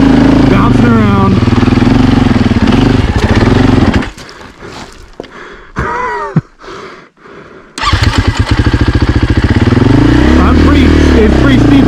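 A Husqvarna FE450 dirt bike engine revs loud and close while climbing a steep, loose, off-camber slope, rising and falling with the throttle, dropping briefly to a low idle and then revving hard again.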